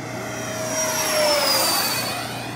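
A Freewing 90mm electric ducted-fan F-4 Phantom II RC jet, short-nose early model, makes a high-speed pass at an evening flying event: a loud whooshing turbine whine with a falling pitch as it swells and fades past, no talk.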